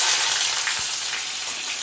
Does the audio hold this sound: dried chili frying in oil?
yes